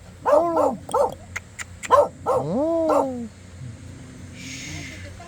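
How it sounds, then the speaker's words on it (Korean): A dog, a brindle tiger-coated breed, barks repeatedly in short loud yips and whiny bow-wows close by, begging for food, with a few rising whimpers between barks and quiet background afterward. "저거 달라고 짖는 거예요"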